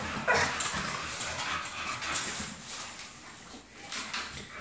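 Dogs in a home garage used as a kennel, heard as whimpers, yips and restless movement over a noisy indoor background, moderately close but fairly faint.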